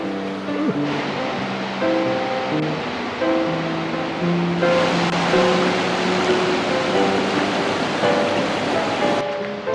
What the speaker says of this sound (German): Wir sind am Fluss angekommen